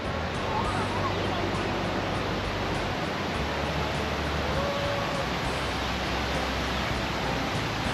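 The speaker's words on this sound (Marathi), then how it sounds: "एवढ्या उंचावरून तुषार पडणारा हा धबधबा मी पहिल्यांदाच पाहतो" Savatsada waterfall near Chiplun plunges from a great height, making a constant, dense roar of falling water that fills the whole stretch evenly and loudly with no pauses.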